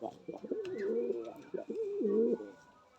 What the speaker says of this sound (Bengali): দেখুন পায়রাটা স্ট্যান্ডিং দেখুন আপনারা দেখতে পাচ্ছেন